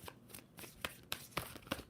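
Quick, close tarot card shuffling: several sharp riffles and snaps in a steady rhythm over a couple of seconds, fairly quiet, with no voices.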